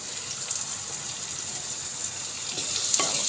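Small red onions (shallots) sautéing in hot oil in a pan for a Kerala theeyal give a steady, close hiss, with a couple of brief knocks from stirring near the end.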